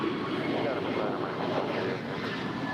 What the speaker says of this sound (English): Here we have a 2-year-old Airbus A321neo departing to Kona, American Airlines Flight 59.